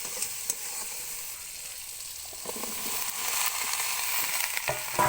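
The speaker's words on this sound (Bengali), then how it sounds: "সবজিগুলো দিয়ে একসাথে কষিয়ে নিতে হবে।" Vegetables for a pui shak and pumpkin ghonto sautéing in a hot pan, a continuous bright sizzle with scattered scraping stirs, close and fairly loud.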